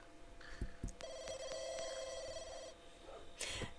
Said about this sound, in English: Who is ringing her at like fucking hell AM in the morning?